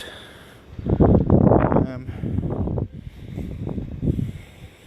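Gusting wind buffets the microphone outdoors at a closed park, rising into loud rumbling bursts under a person's speech.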